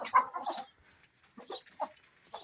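A black Shamo hen gives short, broken clucks in scattered bursts around egg laying, close by and fairly quiet, with gaps of near silence between them.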